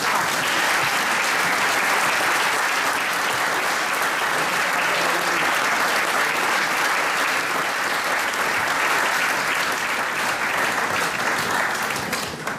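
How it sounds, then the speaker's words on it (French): A conference audience applauds for a cardinal's talk, steady loud clapping that fills the whole stretch without a break, dense and even from start to finish. "Applaudissez."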